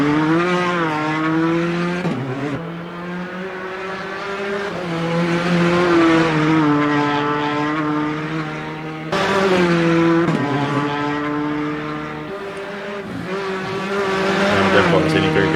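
A Ford Fiesta rally car in an Estonian championship round races along a stage, its engine revving hard through gear changes with rising and falling pitch, loud and close, with a voice talking over it.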